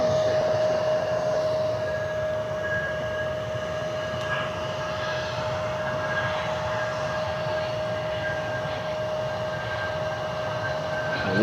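A Learjet inbound at Cleveland Hopkins airport gives a steady, moderately distant jet engine roar with a sustained whine, continuous throughout with no talk.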